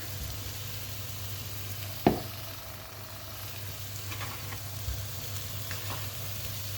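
Meat kofta frying in a dry pan as their fat melts out, a low continuous sizzle with a steady hum beneath, one sharp knock from the pan near the middle and a few faint scrapes, no talking.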